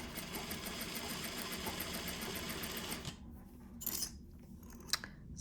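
Sewing machine stitching a narrow bias-cut spaghetti strap, running steadily with rapid even needle ticks for about three seconds, then stopping, followed by a few faint handling clicks and rustles.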